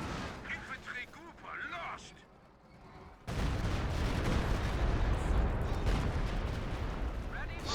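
In Company of Heroes 2, a Stuka dive bomber strikes, its impact rising into a loud, sustained roar of explosion and rumbling debris after a quieter stretch of distant battle noise and commentary.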